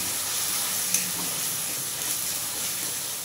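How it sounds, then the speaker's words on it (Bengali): Garlic and onion paste fries in a pan for chana masala, a steady, even sizzle and hiss that continues throughout with a faint stirring scrape. "রসুন বাটা আর পেঁয়াজ বাটা একসঙ্গে ভালো করে ভাজা ভাজা করে নেব"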